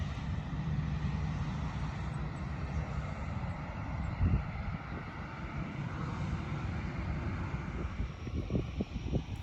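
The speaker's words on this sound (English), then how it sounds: "Watching some airplanes." Airplanes pass overhead while someone sits outdoors on a blanket, a distant low roar that swells and fades, mixed with wind rumbling across the microphone.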